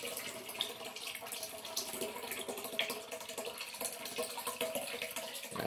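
Bud Light beer poured into a dirty tank, a steady splashing, gurgling pour of liquid that runs continuously at a moderate, fairly close level with no voices.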